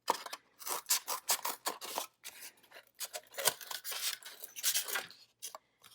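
Scissors snip through a foam block in quick repeated cuts, close and fairly quiet, each cut a short crisp crunch with brief pauses between.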